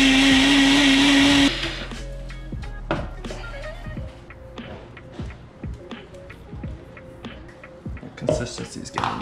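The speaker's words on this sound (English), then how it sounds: "It's easier if you use a bigger blender" A blender blending salsa whirs loudly for a second and a half, then cuts off, followed by clinks, taps and handling noises in a kitchen.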